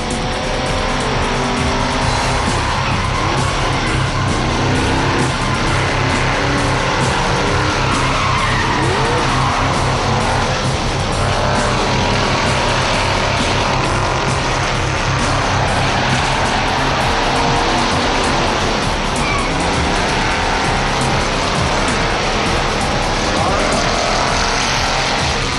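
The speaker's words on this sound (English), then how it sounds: "Don't forget, in order to pass a car, you've got to hit it. Whoa, there he goes. That means spin-outs and more spin-outs." Race cars in a contact demolition-style race skid and spin out, tires squealing and engines roaring continuously at high volume, with crowd-like din and dense crash noise throughout.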